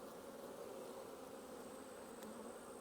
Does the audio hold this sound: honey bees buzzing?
yes